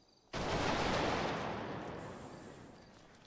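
An honor guard rifle volley in GTA roleplay, many rifles firing at once as a single sharp, loud crack that rings out and decays slowly over three seconds, heard alone.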